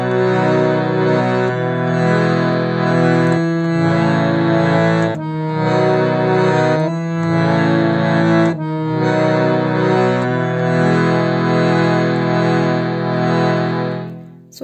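Sustained harmonium chords for Samsara Dava, played at a faster tempo, shifting between a few chord shapes every second or two, loud and close with the reedy drone carrying throughout and no voice.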